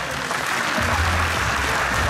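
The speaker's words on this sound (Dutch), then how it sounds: "Mag ik als eerste een applaus voor beide deelnemers?" A crowd at a kickboxing fight event applauds both fighters, a loud, continuous roar of clapping with a low rumble filling the hall throughout.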